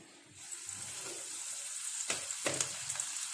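Coated broast chicken pieces frying in hot oil, a soft continuous sizzle with a few sharper crackles and pops toward the end, fairly quiet and close.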